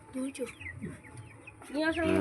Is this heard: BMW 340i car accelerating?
no